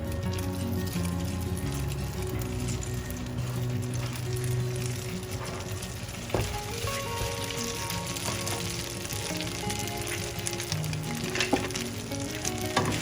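Idli cubes dropped into hot ghee fry with a dense, constant sizzle close by, while occasional clinks and scrapes of stirring cut through the crackle.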